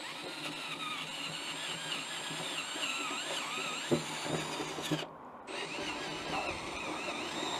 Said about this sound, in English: I'm going to reset my drill to a slower speed.